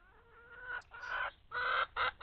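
Chickens clucking in the Farming Simulator 25 video game, a few close, clear bursts of hen clucks in a short uneven sequence, alone without talk.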